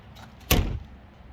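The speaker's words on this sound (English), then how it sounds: "Opens up, both swing open." A door thumps open once in a single short burst, close and fairly loud, then fades back to a quiet background with no talk.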